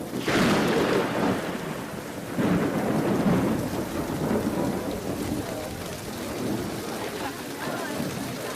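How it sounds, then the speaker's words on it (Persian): Steady heavy rain with rolling thunder in a storm, loud and continuous throughout, with a few stronger rumbling surges. "این باران هم از برکت قدوم توست فرزندم"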